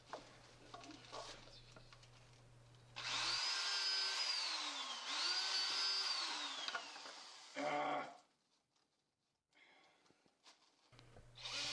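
A power drill drives screws into countersunk holes on a wooden model railroad helix, giving a whining, gliding run of about five seconds before stopping, with quieter shop noise around it.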